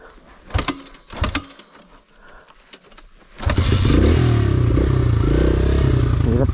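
A motorcycle being pushed by hand uphill on a rough rural trail in Tarlac: a few clattering knocks, then the engine bursts into a loud, sustained revving roar close by.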